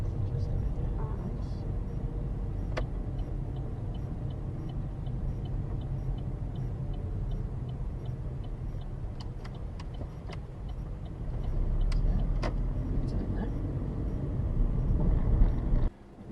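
A car's engine and road noise drone steadily from inside the cabin as it pulls into a driving test centre in Wrexham during a test. A few faint ticks sit over the rumble, which swells slightly near the end before cutting off.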